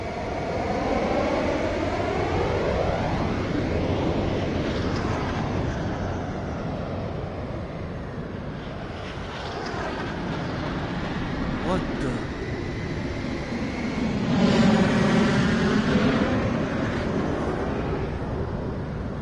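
A fighter jet pulling a Cobra maneuver in level turning flight in a video game gives a sustained engine roar that sweeps in pitch, swelling louder near the end, while a person talks over it throughout.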